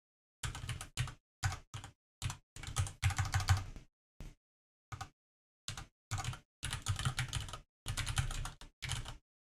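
Bursts of rapid typing on a computer keyboard, close and clear, in several short runs separated by brief pauses, with no talking.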